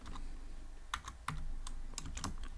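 Python code is typed on a computer keyboard in a quiet room, a handful of crisp, unevenly spaced keystrokes over a steady low background hum.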